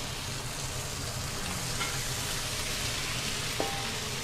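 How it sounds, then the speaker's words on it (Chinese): Teriyaki chicken cutlet sizzles in a pan, a dense, even crackle and spit of hot oil that holds loud and close throughout with no pauses. "来继续煎"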